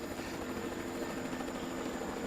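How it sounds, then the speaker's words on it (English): A helicopter drones steadily in the distance above a Borneo jungle canopy, a faint, continuous rotor rumble with no voices over it. "It's the heli gone."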